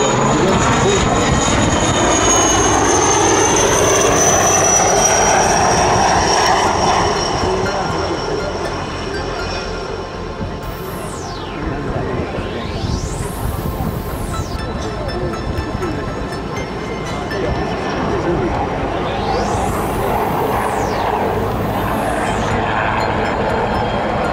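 Fixed-wing airplane at an air show in Bex, roaring steadily as it banks close past, with engine whine and a rising-falling pitch sweep, loud throughout with people talking in the background.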